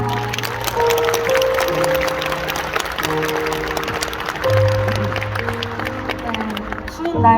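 Concert audience applause, a dense patter of many hands clapping, mixed with sustained musical tones and a swell of cheering near the end.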